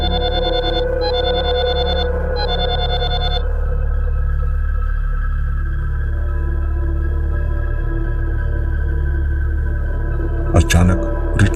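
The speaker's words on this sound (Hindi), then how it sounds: "रीटा ने रॉकी को फोन लगाया।" An electronic phone ring sounds in two short repeated bursts, then a steady tone hangs under low background music.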